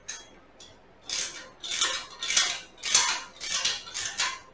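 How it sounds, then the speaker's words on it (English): Nuts being tightened on U-bolts while assembling a Harbor Freight trailer: a close series of about seven bright metallic ratcheting strokes in a steady rhythm, each a short burst of clicks, with no talk. "When you're tightening a U-bolt, you do both sides a little bit at a time so it doesn't kink one way or the other."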